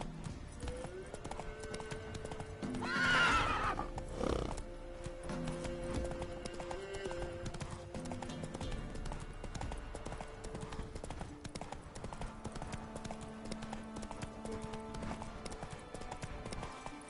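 A horse in The Witcher 3 gives a loud whinny near the start, then its hooves clip-clop in a steady rhythm over game ambience and music.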